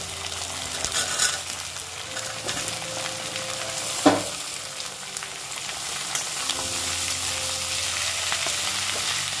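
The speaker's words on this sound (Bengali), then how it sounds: "এগুলোকে ভালো করে সটে করে নিতে হবে।" Mixed vegetables sautéing in a pan for sambar dal, a continuous close sizzle with a sharp clatter of a spoon or utensil partway through and light stirring noises.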